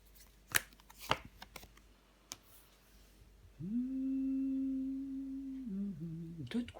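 Tarot cards handled and laid down on a table: a few sharp, close taps and flicks spaced apart, followed by a steady humming tone lasting a few seconds, with no voices.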